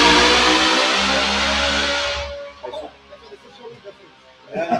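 Race car engine revving loudly and steadily for about two seconds on a racing track, then cutting off, followed by quieter clatter and a voice near the end.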